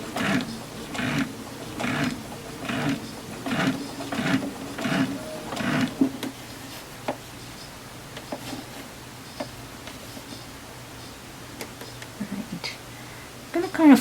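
Domestic sewing machine stitching a garment seam during an at-home sewalong, rapid rhythmic motor bursts for about six seconds that slow and stop near a seam, followed by quiet handling sounds.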